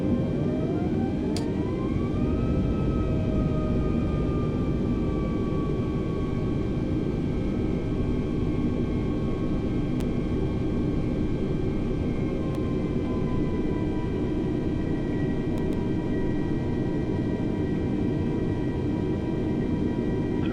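Airliner taking off from runway 24 in Flight Simulator 2020, a steady loud engine roar with rising whine tones that climb over the first seconds, then hold and slowly drift through a continuous spool-up.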